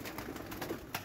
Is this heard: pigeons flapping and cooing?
yes